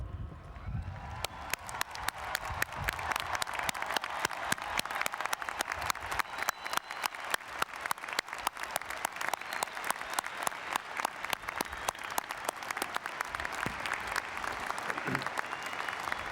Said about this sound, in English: It is appropriate, therefore, that we stand up, all of us, everyone, including the graduates, and applaud the class of